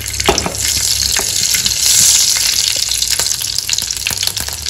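Mustard seeds and cumin fry in hot oil for a masala dosa filling, a loud continuous sizzle with scattered sharp crackles and pops, a brief surge of hissing midway, and no talk.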